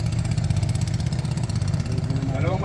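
A motorcycle engine runs close by with a steady, pulsing throb that holds constant without any clear revving.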